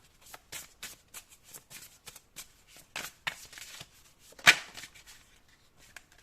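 Tarot or oracle cards are shuffled and drawn in a quiet room, giving a rapid series of soft, papery flicks and riffles that land in irregular bursts.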